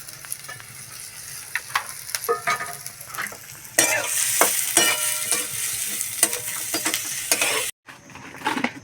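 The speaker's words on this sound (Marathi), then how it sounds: "हा कांदा थोडा वेळ असा तळून घ्यायचा आहे" Sliced onion frying in hot oil in a wok, a steady loud sizzle with scraping stirs, growing fiercer partway through before a brief cut to quiet and a return.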